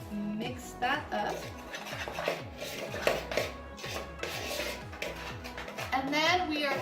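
Coconut flour bread ingredients being mixed in a bowl, a quick rhythmic scraping and tapping of a utensil against the bowl, continuous and close.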